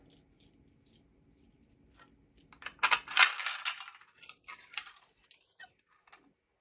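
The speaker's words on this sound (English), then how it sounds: "Grab my handy dandy keys." A bunch of keys jangles as it is picked up to open fire alarm pull stations salvaged from a demolished system, with a couple of metallic rattling bursts close by and no talking.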